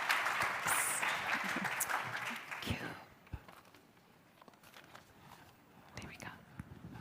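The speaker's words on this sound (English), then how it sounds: "please join me in giving a massive round of applause to my two panelists, to Abongile Mashela and to Dipesh Thomas" Applause from an audience at a future-of-work panel dialogue, a fairly faint wash of clapping for the panelists that fades after about three seconds, followed by scattered thumps and soft murmuring.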